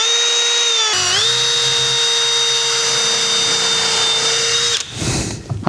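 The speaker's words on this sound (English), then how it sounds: "So I don't split the wood, I'm going to drill some pilot holes." A power drill bores pilot holes into wood for a raised garden bed, its motor whining steadily and loudly for about four seconds before spinning down, followed by a short rustle of handling.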